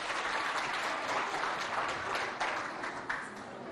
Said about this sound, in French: applaudissez-la bien fort